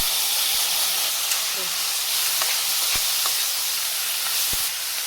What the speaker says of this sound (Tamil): கருவேப்பிலை சேர்த்துக்கோங்க நல்லா வதக்கிக்கோங்க வெங்காயம் சேர்த்துக்கோங்க